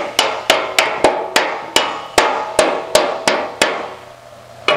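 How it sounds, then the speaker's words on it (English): A radiused hammer strikes sheet metal backed by a dolly while shaping a Jaguar E-Type bonnet: about fourteen sharp, ringing metallic blows in an uneven rhythm, close and loud, each with a short decaying ring, pausing briefly before a final hit. "I got this radiused hammer. I got a dolly underneath there."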